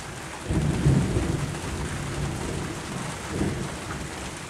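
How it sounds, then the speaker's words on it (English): Rumbling thunderclap rolls through a steady rainstorm, a low swelling boom near the start and a second softer rumble later, with constant rain hiss throughout and no talk. "See how many seconds until the thunderclap?"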